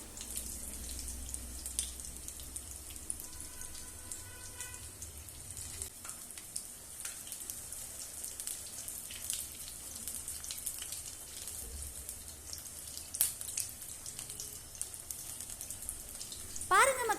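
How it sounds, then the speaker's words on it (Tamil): Urad dal vada deep-fry in hot oil with a quiet, continuous bubbling hiss and scattered small pops, fairly faint and steady throughout. "நம்மளுடைய வடை வந்து எண்ணெய்க்குள்ளே எவ்வளோ சூப்பராக பொறிஞ்சி வெந்துக்கிட்டு இருக்கு"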